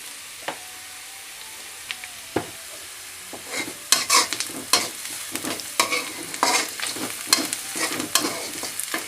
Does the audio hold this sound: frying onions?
yes